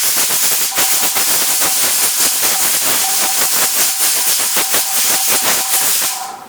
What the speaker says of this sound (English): That is how this pressure canner releases excess steam.